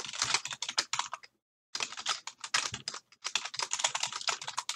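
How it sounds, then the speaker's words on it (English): Fast bursts of typing on a computer keyboard, dense clicky keystrokes in three runs separated by short pauses, close and clear with no talking. "Now we're gonna go down here and type in the scanning code."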